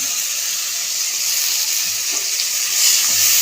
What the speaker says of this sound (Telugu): ఇవన్నీ బాగా వేయించుకోవాలి